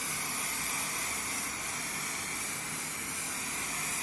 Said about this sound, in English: we're just gonna really douse it in hairspray this time